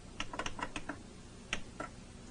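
Buttons tapped on the keypad of a Kurzweil K2600 synthesizer to enter a program number, a quick run of soft plastic clicks followed by two separate presses after a pause, close and quiet.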